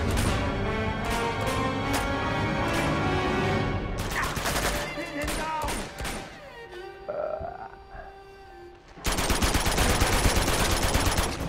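Automatic weapon bursts in Uncharted 2, rapid chattering gunfire for several seconds, a pause with scattered shots and clanks, then a dense, loud stream of fire resuming near the end.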